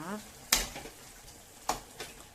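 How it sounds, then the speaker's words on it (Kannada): Bottle gourd halwa is stirred in a pan, with two distinct scraping strokes of a spoon against the metal after a brief spoken word at the start. "ಇನ್ನು ಸ್ವಲ್ಪ ಮಗುಚುವ."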